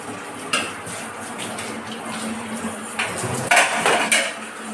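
Dishes washed under a strong running kitchen tap: a steady rush of water with clinks and clatters of pots and utensils, louder knocks near the end, no speech.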